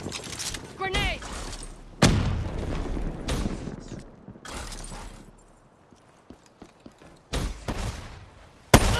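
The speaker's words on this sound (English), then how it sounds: "Grenade!" A grenade blast in Black Ops 3 against bots, heard amid a string of loud bursts and booms that come in separate clusters. Shorter pops sound between them, and the scene quiets for a stretch in the middle.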